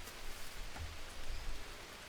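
Steady rain falling in the jungle survival game Green Hell, a quiet, even hiss of drops continuing throughout with slight swells, no voices.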